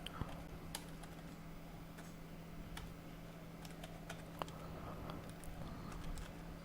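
Keys clack at an irregular pace on a computer keyboard while JavaScript code is typed, sharp close taps over a faint steady hum, with no voices.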